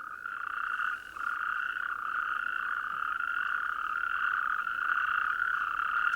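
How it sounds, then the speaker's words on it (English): Natterjack toads call from a waterhole at night in spring, a steady, loud, continuous churring trill held throughout with a brief dip near the start, no voices. "These are natterjacks."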